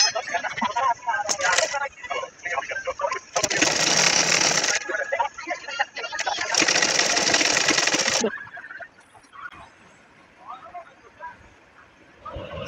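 A sewing machine stitching a fabric dress seam runs in two loud, close, sustained whirring bursts, with quieter handling noise and brief stops between them.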